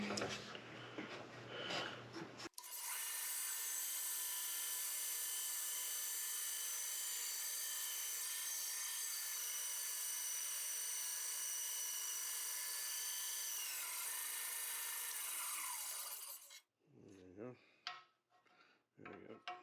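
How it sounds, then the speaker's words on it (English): Bandsaw cutting through a wooden blank for a basketball-court ring, a loud steady whine that runs continuously for about fourteen seconds, then stops abruptly, leaving a few faint knocks and handling sounds. "First thing I do is trim him up a little bit on the bandsaw."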